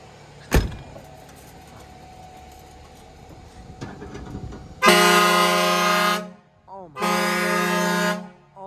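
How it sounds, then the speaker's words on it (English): Two long, very loud blasts from the air horn of a 2012 Newmar Essex motorhome, the first about a second and a half and the second slightly shorter, following quieter vehicle noise and a brief sharp knock, with someone talking nearby. "Man, that is a really loud horn."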